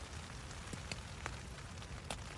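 Steady rain drums on a hot tent during wet, windy camping, a close, even hiss with scattered sharper drop taps and no talking.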